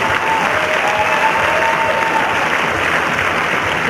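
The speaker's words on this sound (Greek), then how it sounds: "Ένα χειροκρότημα για την κυρία Περάκη." Steady applause from a studio audience greeting a presenter at a Greek television quiz show, continuous dense clapping without a break, fairly loud and close.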